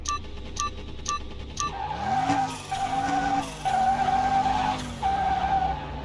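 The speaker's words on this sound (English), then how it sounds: "We get to go against a BMW 3 Series with some slicks, no tuning." A BMW 3 Series on slicks, untuned, drag racing in the Car Mechanic Simulator 2021 video game: a few short beeps at the countdown, then a loud engine revving up through gear changes with whining rises and drops.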